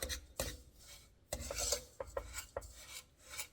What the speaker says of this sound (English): So I'm just going to mix this up some